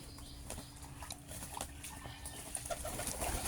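Pigeons cooing faintly at a garden house in the morning, soft low coos amid a busy background of other birds, rustling and fluttering, with no speech.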